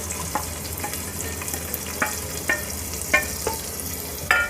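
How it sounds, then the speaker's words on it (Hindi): Roughly chopped large onions fry in a pan under a continuous sizzle, with a spatula scraping and stirring at irregular intervals, producing distinct clacks and scrapes close by. "प्याज को मैंने हल्का हल्का भून लिया है"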